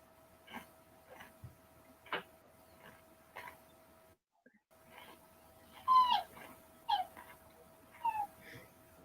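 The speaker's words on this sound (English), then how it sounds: "Is that your puppies? Yeah, they're starting to scream already." Several puppies whimper and squeal in faint, high-pitched bursts at a distance, quiet at first and then a few sharper cries over a low steady hum.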